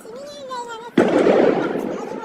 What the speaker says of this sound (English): But then you can hear gunshots.